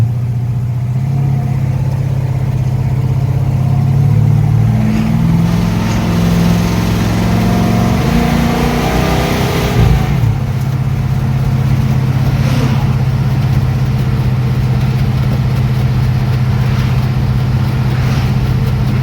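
A 1970 Pontiac LeMans with a 455 V8 and MSD ignition on a test drive along quiet industrial roads, its low engine droning steadily and loud throughout, with a rev change partway through and a constant rumble of road and wind.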